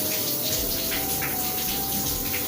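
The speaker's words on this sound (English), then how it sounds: "I'm gonna let the water run on it as I'm holding it." Shower water running steadily in a home shower, a dense, continuous hiss and spatter at close range with no gaps and no talking.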